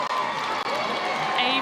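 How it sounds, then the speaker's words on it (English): Little League softball crowd at a Bangor, Maine versus Bristol, Connecticut game cheering and roaring after a two-run triple, a brief, steady wash of shouting and applause under a commentator's voice. "2 runs coming to score on an RBI 2-run triple, and this crowd is going nuts"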